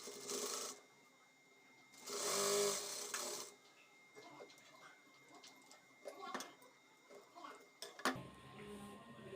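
Sewing machine stitching an inch-long seam on a chudi top pocket, heard as short bursts of rapid needle clatter separated by pauses, with small handling clicks and taps in between.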